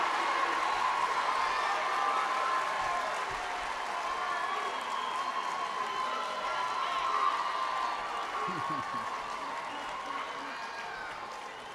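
Sustained applause from a large commencement crowd at a college graduation ceremony, a dense steady wash of clapping and cheering that fills the whole stretch and slowly fades toward the end.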